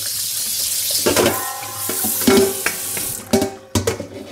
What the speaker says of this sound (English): We give our bowl a rinse, of course.